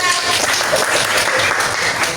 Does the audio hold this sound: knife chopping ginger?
no